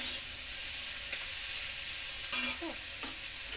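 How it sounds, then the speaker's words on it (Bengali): Torn green chilies stirred into a sizzling curry tempered with black cumin, with a steady hiss of frying and a few close scraping stir strokes near the end. "এটা দিয়ে দিচ্ছি, নাড়াচাড়া করে নেই।"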